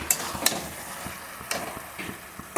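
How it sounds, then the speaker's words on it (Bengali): Shredded cabbage with crumbled scrambled egg is stirred in a frying pan: a spatula gives a few sharp scrapes and taps against the pan over a continuous gentle sizzle, close and fairly clear. "ডিম ঝুরিটা দিয়ে দিলাম, দিয়ে নাড়াচাড়া করে"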